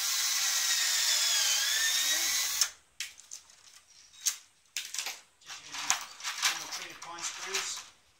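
A power drill whines steadily for about two and a half seconds, driving a screw into a homemade Eskrima stick-fighting training dummy, then stops; scattered handling clatter and rustling follow.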